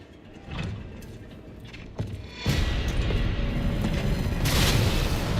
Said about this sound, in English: Let's use a grenade on him.